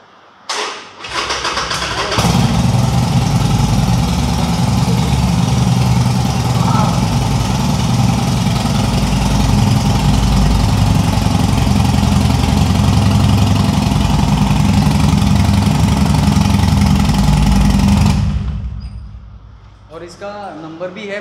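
A red 2013 Harley-Davidson Forty-Eight motorcycle engine starts and idles loudly and steadily up close for about sixteen seconds, a deep rumbling throb, then cuts off.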